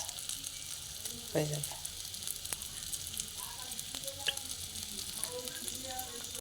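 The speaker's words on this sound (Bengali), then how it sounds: "ওই চাউমিনের উপরেই ডিম ফাটিয়ে দিয়ে দিচ্ছি" Eggs cracked over chow mein in a hot pan, a steady sizzle with a brief crack-like burst early on, and a short spoken phrase in the background.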